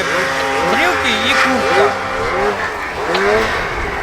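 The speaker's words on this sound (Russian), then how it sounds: "Газует" A Lynx snowmobile engine revs in rising and falling bursts at a snowmobile school, loud and close, under people talking.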